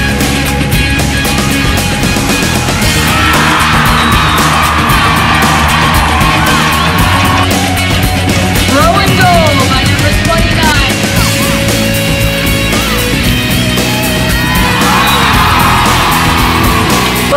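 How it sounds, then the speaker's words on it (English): A large crowd of fans at a field hockey game cheers, yells and whoops nonstop, a loud and dense wash of voices that swells in waves throughout. "But we had to keep our cool while the crowd was cheering."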